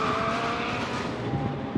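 A race start in the video game Need for Speed: Most Wanted: loud, close car engines roaring with squealing tires, a continuous burst of racing noise throughout.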